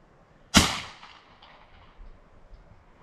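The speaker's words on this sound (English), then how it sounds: "It's the garden gun." A single sharp report from a garden gun, loud and close, followed by a quickly decaying ring and a quiet tail with faint low thumps.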